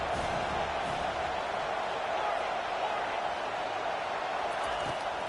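Football stadium crowd on a third down, a steady dense roar of cheering and noise from many fans, continuous and fairly distant, with talk over it.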